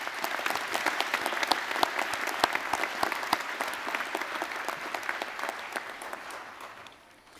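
A large audience at a Massey University graduation ceremony in Manawatū claps warmly, dense steady applause filling the hall before gradually thinning and fading out at the end.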